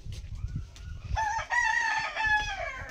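A rooster crows once, loud and close, with a drawn-out harmonic call that rises and trails off. Softer low rustling and background noise sit underneath, and there is no talk.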